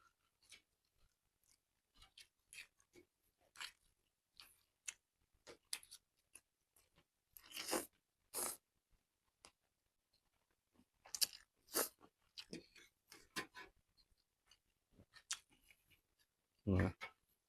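Crunchy Thai pounded rice noodle salad (tam khao pun) being eaten close up, with scattered crisp bites and chewing crunches, a few louder bursts, and quiet gaps between them.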